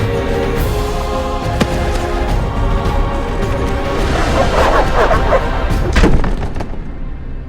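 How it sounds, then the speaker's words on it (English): Dogs in The Witcher video game barking and yelping loudly and continuously, with occasional thuds and slams in the game soundscape. "These dogs are deadly."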